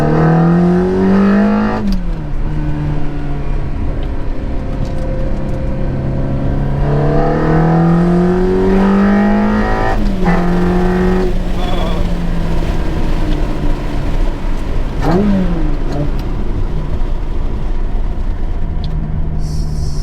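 A manual Ferrari 360 sports car engine revs up and down continuously, rising and falling in pitch with gear shifts, loud and close throughout.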